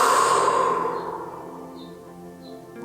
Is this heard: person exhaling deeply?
yes